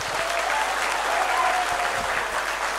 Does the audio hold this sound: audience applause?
yes